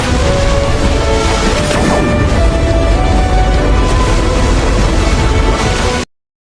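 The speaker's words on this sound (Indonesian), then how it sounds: "Duar, duar, ledakan maha dahsyat bergema, mengguncang langit samudera hitam dengan sangat hebat." A loud, booming crash rumbles and roars for several seconds, then cuts off abruptly into silence.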